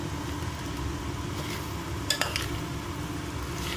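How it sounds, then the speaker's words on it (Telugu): Egg fried rice being mixed in a pan at home, a steady soft scraping and stirring texture with a couple of brief metallic clinks of a utensil against the pan. "ఈ రైస్ అంతా ఇందులో వేసుకుందాం. కలిపేసుకోవాలి"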